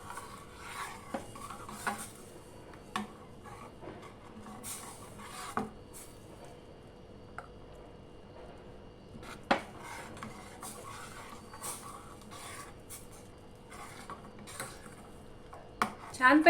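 A spoon stirs almond and poppy seed porridge with milk and dates in a pot, giving faint scraping and light clinks of metal on the pot at irregular moments, quiet and close with no talking.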